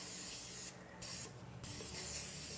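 Cooking spray hisses from a can into a bundt pan, three sustained bursts with short pauses between, loud and close with no talking.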